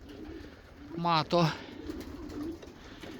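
Racing pigeons coo nearby in a short double burst of throaty, rising-falling calls, with quiet outdoor ambience around them.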